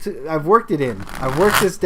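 A tarot deck being shuffled by hand, its soft riffling and flicking of card stock heard under a person talking throughout.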